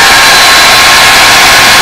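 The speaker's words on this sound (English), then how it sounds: "This is Karen's hair dryer that I never should have borrowed" A household hair dryer, used as a heat source for fiberglass work on aircraft nacelle fairings, blows a loud, steady, close-up rushing whoosh without a break.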